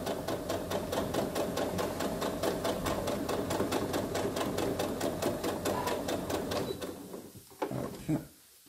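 A sewing machine stitches fabric for a small coin purse in a steady, rapid mechanical rattle close by, running for several seconds before stopping, followed by a few light handling knocks.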